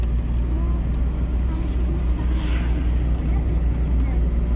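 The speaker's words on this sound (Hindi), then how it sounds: "तीसरे गियर में जा रही है ना।" A car engine drones steadily in third gear, a constant low hum and road rumble filling the whole stretch with no change in pace, while people talk over it inside the vehicle.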